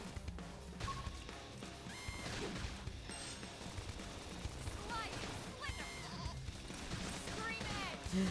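Sheep-like bleating in the video game Xenoblade Chronicles X, repeated bleats mixed with rapid gunfire-like battle noise, with someone talking over the game sounds.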